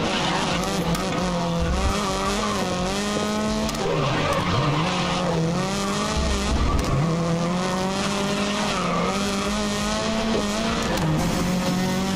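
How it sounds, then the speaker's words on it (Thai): A racing car engine in the game GRID (2019) roars steadily with rising and falling pitch as gears shift, a continuous simulated engine drone with faint tire noise. "เพื่อนได้ยินเสียงเครื่องชัดด้วย"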